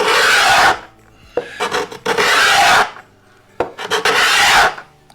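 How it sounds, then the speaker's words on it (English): A scraper dragged with heavy pressure across the old finish of a mid-century modern wooden side table, producing three long, loud rasping strokes separated by brief pauses and small knocks, up close with no talking. "Now I'm putting a lot of pressure on this as I'm scraping across"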